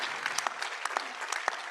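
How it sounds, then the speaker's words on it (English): A brief round of applause from an audience at a panel discussion, dense steady clapping with a few sharper individual claps standing out. "Let's get a round of applause for"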